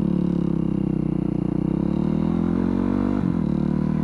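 A motorcycle engine revs hard on the clutch during takeoff, a loud, steady, close engine drone that holds high and dips briefly near the end.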